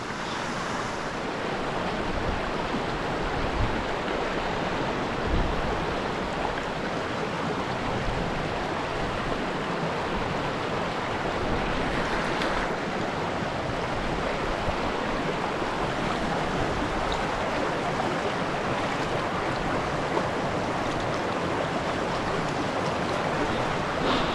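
A small trout creek rushing steadily over rocks, close and continuous with a full, hissing wash of water and no voices.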